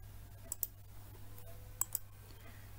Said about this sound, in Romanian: voi executa click pe butonul Start Record